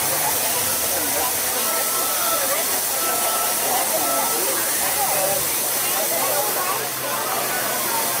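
Fog cannons hiss steadily at an outdoor Halloween night event, a loud continuous spray of steam-like vapor filling the scene while people talk nearby.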